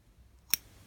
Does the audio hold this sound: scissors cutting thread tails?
yes